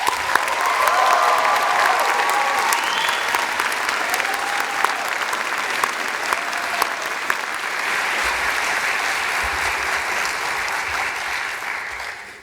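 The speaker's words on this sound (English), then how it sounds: "another round of applause" A large audience at the 2022 Perpich Arts High School graduation gives a long, even round of applause, dense clapping that holds steady throughout before tapering at the very end.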